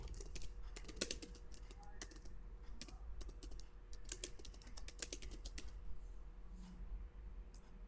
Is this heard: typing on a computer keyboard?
yes